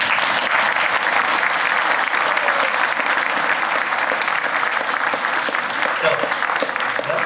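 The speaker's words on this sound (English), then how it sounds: "let's give them a round of applause" An audience applauds after a panel discussion. The clapping is loud and steady, keeps going for about seven seconds and never dies down.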